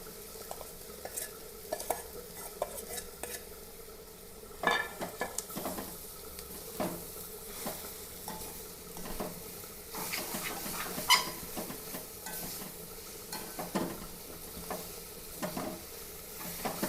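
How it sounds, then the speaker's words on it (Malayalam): Cooked jackfruit is stirred into frying crushed coconut with cumin in a pan, giving repeated scraping and clattering strokes over a soft, low sizzle, close by with no talk. "ഇതിലേക്ക് ചക്ക വേവിച്ച് വെച്ചിരിക്കുന്നത് ഇട്ട് കൊടുക്കാം."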